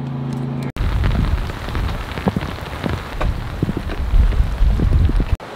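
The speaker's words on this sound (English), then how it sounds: "I feel raindrops." Steady rain pattering on a sailboat during a stormy ocean passage, a dense continuous hiss with scattered louder drops close by, running alone without talk.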